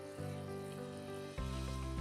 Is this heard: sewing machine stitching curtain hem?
no